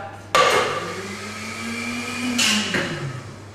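A bartender mixes a drink over ice in a glass, a steady metallic scraping and ringing swirl with sharp clinks at the start and near the end, close and loud with no talking.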